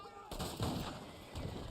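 Gunfire in a video game, aimed at a horse: a sharp blast is followed by a second report and a rumbling tail, all under a dense, noisy game soundscape with faint talk.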